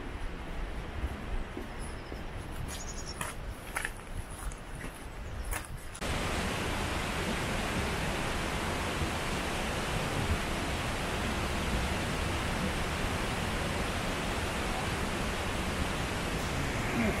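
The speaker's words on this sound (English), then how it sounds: "You hear the noise of the waterfall in the background" The Falls of Clyde roar after heavy rain, a dense, continuous broadband rush of water that grows louder and steadier partway through.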